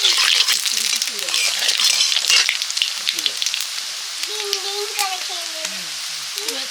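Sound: nigella seeds sizzling in hot mustard oil

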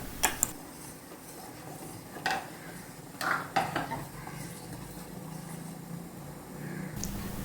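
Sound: chopped plantain added to boiling sago and cooked in pot

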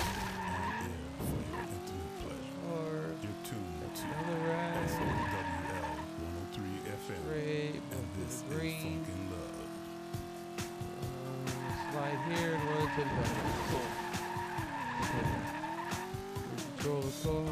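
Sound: car tires skidding in a racing video game

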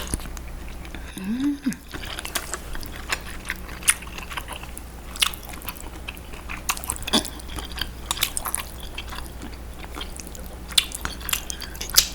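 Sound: chewing spicy Samyang ramen with bracken fern

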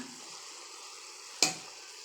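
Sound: eggplant curry frying in a pan

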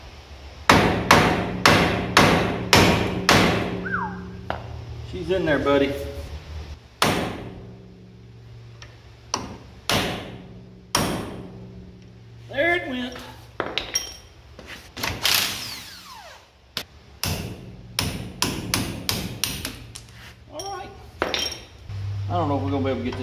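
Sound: hammer striking metal pin

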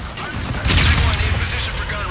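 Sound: gunfire during gun run in Call of Duty: Infinite Warfare video game

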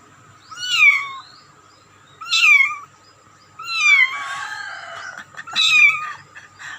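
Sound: cat and kittens meowing

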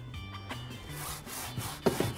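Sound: scrubbing a tire with a tire scrubbing brush

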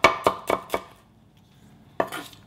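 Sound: knife slicing green chili pepper

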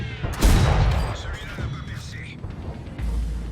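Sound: tank cannon fire in the video game World of Tanks

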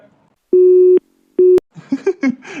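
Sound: phone line tone after call is cut in cartoon

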